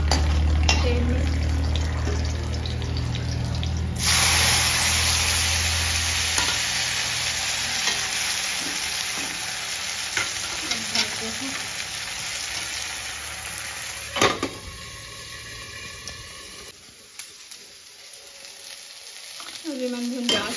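Tomatoes fry in hot oil in a pan, a loud, close, continuous sizzle with stirring and scraping strokes that fades near the end.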